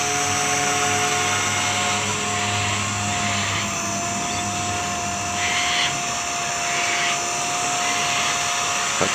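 Blade 130X RC helicopter in flight on an 85% flat throttle curve, giving a loud, steady high-pitched rotor and motor whine with brief swells, heard close with no talking.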